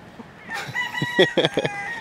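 Chickens cluck and a rooster calls nearby among a Brahma cross hen and other hens, a few loud, clipped vocal bursts rising over a quiet yard.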